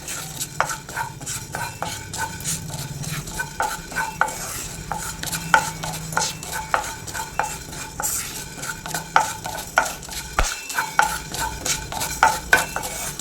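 Fenugreek seeds and whole spices dry-roasting in a pan for homemade sambar powder, stirred with rapid, rhythmic scraping and rattling strokes over a faint sizzle, close and steady, with no talking.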